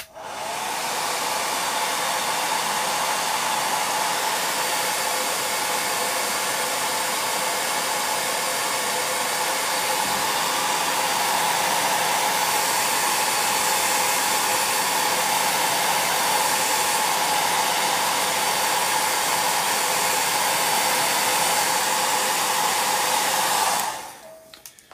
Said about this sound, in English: So again, I just need to blast that with the hairdryer quickly.